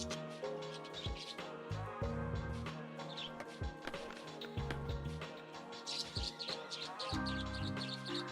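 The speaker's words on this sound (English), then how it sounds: "I can boop the bird." A small cartoon bird in the SkateBird video game chirps and tweets repeatedly in quick bursts while being petted, the calls sitting close and clear over a soft, steady game music bed.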